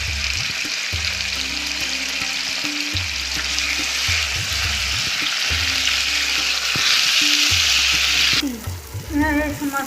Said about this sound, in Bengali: হ্যাঁ, এই মশলা ভাজা হয়ে গেছে।